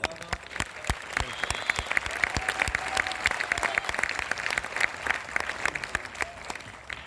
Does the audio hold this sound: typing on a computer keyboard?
no